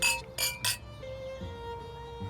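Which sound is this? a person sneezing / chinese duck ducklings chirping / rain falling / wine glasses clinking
wine glasses clinking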